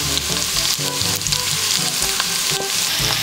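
Meat for Bisaya-style humba dropped into a hot pan, crackling into a loud, steady sizzle with brief stirring scrapes, close and continuous, with no talking.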